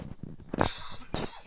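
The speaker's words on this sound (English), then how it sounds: "I apologize for coughing here on the video." A person with a cold coughs twice, close and loud, with short throaty bursts and some rough breathing between.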